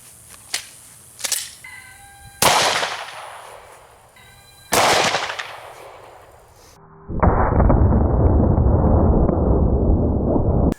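Two loud, sharp 10mm full metal jacket gunshots (180 grain) crack close by into clay blocks, each followed by a short decaying echo, after faint handling clicks and before a steady hiss sets in.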